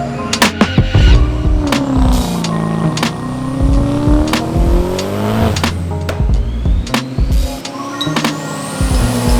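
A Mercedes-AMG GT63s with big turbos runs rolling anti-lag, its engine droning loud and close while rapid sharp pops and bangs crackle repeatedly over it, with the engine pitch rising and falling and no talking.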